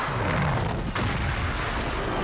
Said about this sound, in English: Let's fire this dang cannon.